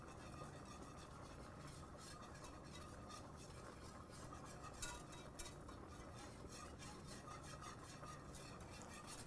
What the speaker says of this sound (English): Slowly whisking in.